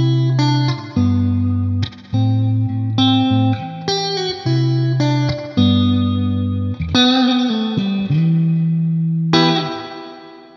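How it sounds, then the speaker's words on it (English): Electric guitar through a digital spring reverb pedal, a lick of chords and single notes with drippy, splashy reverb trails, each phrase decaying smoothly, loud and close and free of speech. "Can digital spring reverb pedals keep up with the real deal?"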